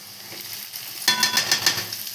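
Potato and egg curry sizzling in a pan, starting as a quiet simmer before a sudden burst of loud frying and scraping as the mixture is stirred in irregular strokes.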